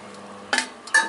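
A spoon scrapes twice through a poha puttu mixture with cardamom powder in a pan, giving two short, close scraping strokes over a quiet background.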